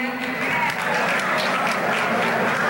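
A crowd at the Bash I 2004 event applauds steadily, with some cheering or voices mixed into the dense clapping.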